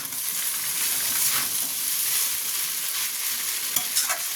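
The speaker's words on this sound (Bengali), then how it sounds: "আমি শুধু এরকম ফ্রাই করছি" Vegetables for veg chowmein stir-fry in a hot pan, a loud continuous sizzle with hissing bursts as they are tossed and stirred, close up and without talk.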